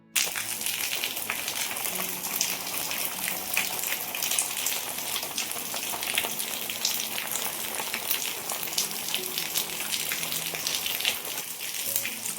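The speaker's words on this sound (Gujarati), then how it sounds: "જો મસ્ત વરસાદનું આગમન થયું છે" Dense, hissing rainfall pours steadily for the whole stretch, a constant close wash of drops with no voices.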